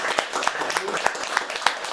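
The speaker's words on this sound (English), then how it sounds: "once again, a round of applause to our Brooklyn chairman." Brief, sparse clapping at a Brooklyn Republican party meeting in honor of the Brooklyn chairman, a few distinct hand claps mixed with voices talking in the room.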